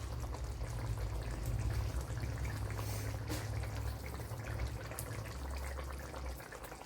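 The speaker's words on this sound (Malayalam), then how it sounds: "ഇനി പുളി ഒഴിച്ചു കൊടുത്ത് ആവശ്യത്തിനുള്ള ഉപ്പിട്ട് കൊടുക്കുക" Tamarind water poured into a pan of cooking bitter gourd, a steady liquid pour and sizzle with a low continuous hum beneath, loud and close throughout.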